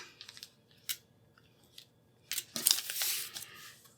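Scissors trim foundation paper for a quilt block in a few crisp snips, with a quick cut near one second and a louder, longer run of cutting toward the end, close by.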